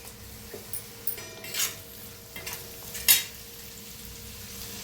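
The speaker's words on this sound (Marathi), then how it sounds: "करून भाजून घेऊया टमाटोला बी कांद्याला बी" Onion and tomato frying in a pan, a soft sizzle under a few spatula scrapes and one sharper clink of metal near the end, with no talking.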